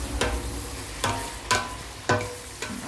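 Onions cooking in a pan over lowered heat, a soft background sizzle broken by four or five sharp scraping stirs of a utensil against the pan at irregular intervals, close and moderately quiet with no talking.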